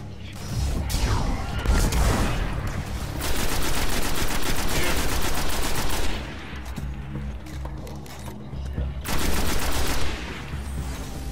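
Enemy gunfire in the video game Destiny comes in heavy bursts of rapid automatic shots and blasts, several loud volleys separated by brief lulls.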